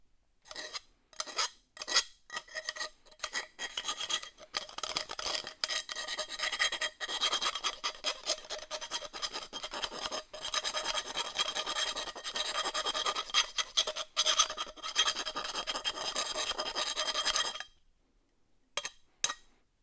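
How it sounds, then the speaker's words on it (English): A hand file rasps back and forth across a freshly cut metal piece, deburring it in a home garage welding setup; steady close scraping strokes run for most of the time, then stop abruptly near the end with a few faint clinks. "We got to deburr it just a smidge."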